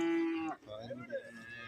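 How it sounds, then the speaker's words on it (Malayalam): A cow at a livestock market gives one long, steady low moo, followed by quieter market background with faint talking and other animal sounds. "കറവയുള്ള പശുക്കൾ ഒരുപാട് വന്നിട്ടുണ്ട് ഇന്ന് ചന്തയിൽ"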